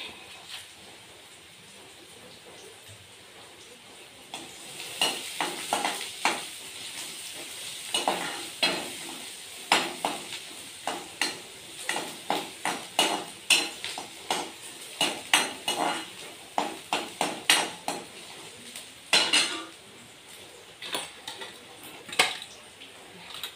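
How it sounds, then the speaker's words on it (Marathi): Chilli pieces sizzle in a hot pan while a spoon stirs them, scraping and clinking against the metal in quick irregular strokes over a steady frying hiss, close and fairly loud. "चांगलं परतवून घेते आता मी."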